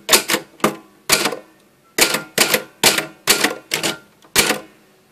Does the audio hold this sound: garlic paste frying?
no